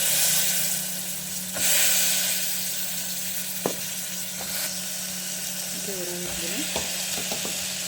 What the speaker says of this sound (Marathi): गरम मसाला घातला आणि बटाटे घालून घेऊया